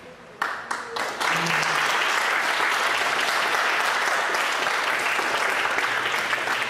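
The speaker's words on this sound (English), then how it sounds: "Thank you for clapping" An audience at a Sunday feast program claps in a sustained round of applause that swells after a few scattered early claps and stays dense and steady throughout.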